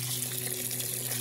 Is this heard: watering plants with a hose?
yes